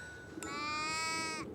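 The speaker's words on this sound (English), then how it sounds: "in Tudor times, there were sheep everywhere" A single sheep bleats once, a clear, wavering sustained call lasting about a second, fairly close and alone against a faint background.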